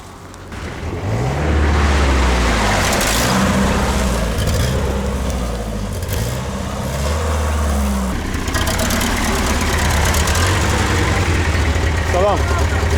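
Engine of a somewhat ropey-looking car running steadily on a hitchhiked ride in Kyrgyzstan, a constant low rumble with voices talking over it throughout.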